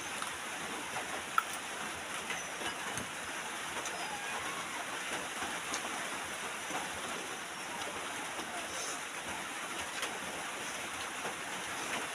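Steady rain falling outdoors, a continuous even hiss at low to moderate level throughout with no breaks or distinct drops standing out.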